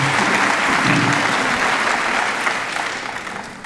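An audience at a Tarleton State University general assembly claps, producing a dense wash of applause that stays full for most of the stretch, then thins and fades toward the end.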